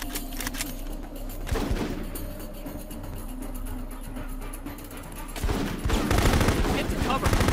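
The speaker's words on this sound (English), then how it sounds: "We're under fire!" Rattling bursts of rifle fire and heavier shots crack during a squad firefight in Full Spectrum Warrior, fairly loud and near, swelling into a denser volley near the end while soldiers shout over it.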